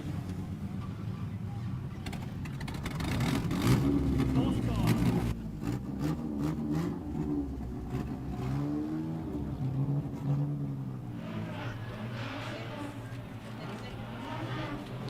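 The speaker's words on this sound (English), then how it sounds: "They bounce their way into the main straight, back to Chris Hay in third." Street stock race cars at Mildura Speedway, engines roaring and revving as the pack bounces onto the main straight, with a commentator talking over the steady engine noise.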